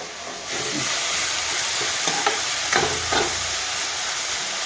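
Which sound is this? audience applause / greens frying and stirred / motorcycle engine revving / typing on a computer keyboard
greens frying and stirred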